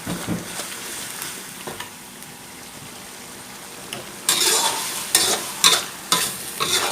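Pork with chili curry paste being stirred and tossed in a hot pan: a quiet stretch of low sizzling, then loud, close scraping stirs in bursts toward the end, with no voices.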